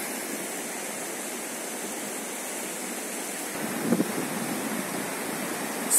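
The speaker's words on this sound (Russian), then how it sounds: "А речка-то какая бурная. Шумит, бурлит." A turbulent summer river rushes over rapids and riffles near the village of Olginka, a steady broadband roar heard alone, with a brief faint knock near the end.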